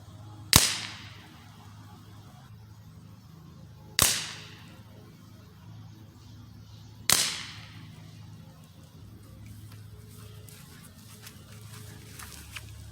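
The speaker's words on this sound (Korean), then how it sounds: "이제는 요게 대고 한번 쏴 보겠습니다" Three sharp, isolated cracks from a budget Gamo spring air rifle fired at a target outdoors, each a few seconds apart with a quick decay and quiet between shots.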